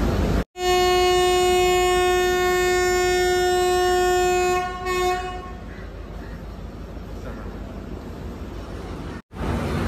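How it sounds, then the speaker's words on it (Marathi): Netravati Express leaving Thiruvananthapuram Central station: a long, loud steady train horn blast sounds close by for about five seconds, then fades into the low rumble of the train starting to move. "चला आपली ट्रेन आता निघूसाठी रेडी असा"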